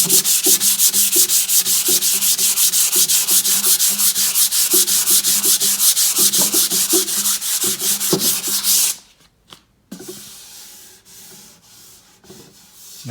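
A finished wooden demilune table being hand-sanded with 220-grit paper, producing steady rapid back-and-forth rasping strokes, loud and close, then stopping abruptly before a few quieter scrapes.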